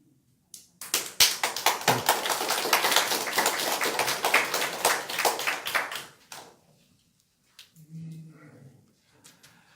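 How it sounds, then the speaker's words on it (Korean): Audience applause at a lecture on the fate of the Korean peninsula, a dense burst of clapping lasting several seconds before fading into quiet, followed by brief low murmuring. "그렇게 안 되면 어떻게 하려고 박수들을 치십니까?"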